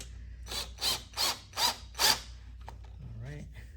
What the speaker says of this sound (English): I'll just go ahead and softly tighten a screw.